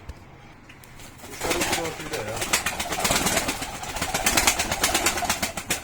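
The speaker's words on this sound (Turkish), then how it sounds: "Çok güzel kuşlar." Pigeons coo and flutter nearby in a busy, continuous chorus, with faint human voices mixed in.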